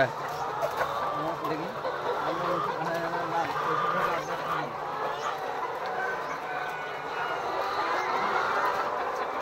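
Hens cluck and squawk in a busy, continuous chorus, with a person talking over the birds.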